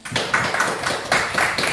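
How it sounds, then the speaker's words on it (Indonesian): Children in a classroom clap their hands together in a rhythmic group pattern, several loud close bursts of clapping in quick succession. "Tepuk tangan"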